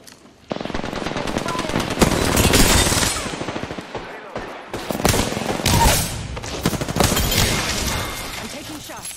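Charge Rifle fire in Apex Legends, a dense run of loud crackling shots and impacts with brief pauses, under voices talking.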